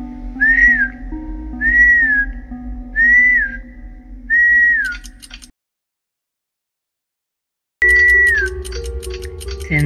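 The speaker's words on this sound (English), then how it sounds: "That's unless we whistle." A person whistles a short repeated rising-and-falling phrase four times over a soft ticking clock, then stops to silence before one more whistle as the ticking returns.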